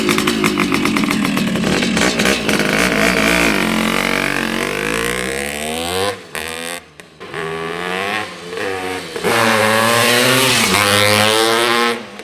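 A 1974 Honda CR250 Elsinore two-stroke motorcycle runs close and loud, its engine crackling and rising and falling in pitch as the throttle is blipped, with brief dips before it settles back into a sustained, buzzing drone.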